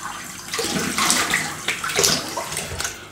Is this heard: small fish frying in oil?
no